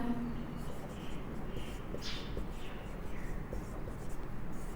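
Chalk or marker writing on a board during a Hindi-language chemistry lesson on solid state, a continuous low scratchy stroking texture sitting steadily under a soft room hum, with a few brief brighter strokes.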